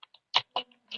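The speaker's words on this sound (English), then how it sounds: "I'll type in print hello world" Someone types on a computer keyboard, producing a handful of close, crisp keystroke clicks spaced irregularly over about a second, with no talking.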